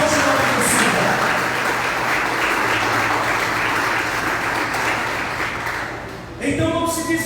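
Congregation applause during a church sermon, a dense sustained clapping that fades slightly before a voice with music comes in near the end.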